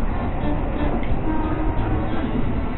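Commuter train at Tanah Abang station in Jakarta, a steady dense rumble of rolling stock with broadband noise throughout, close and continuous without clear horn or voices.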